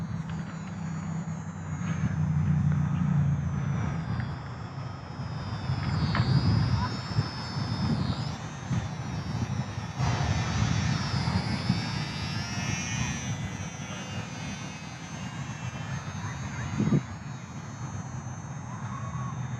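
An FMS PA-18 Super Cub micro RC plane drones past slow and low to the ground, its small electric motor a thin, wavering whine that swells and fades, with a person talking over it.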